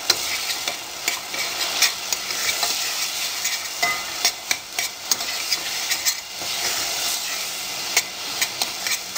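Cardamom and turmeric fry in a pan for basmati rice while a spoon stirs them, giving a soft sizzle broken by regular scraping knocks and taps close by.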